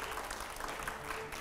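Studio audience applause at a live TV9 interview show with Manoj Tiwari, a dense, steady wash of clapping at moderate level that carries through the whole moment without any talk.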